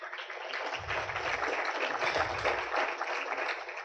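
Audience applause welcoming a lawyer speaker at a talk on market power regulation, steady dense clapping from a crowd, moderately faint and sustained throughout.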